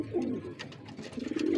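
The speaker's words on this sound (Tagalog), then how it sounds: "So bali ngayon pala nagpasting tayo ng mga kalapati natin." Domestic pigeons kept for breeding cooing nearby, low throaty rolling coos in two short phrases, close and clear with no talking.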